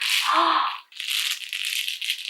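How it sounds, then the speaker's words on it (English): A small object is shaken so its loose contents rattle, a brief burst and a pause, then more rattling, close up. "They sound like they've got smaller things inside."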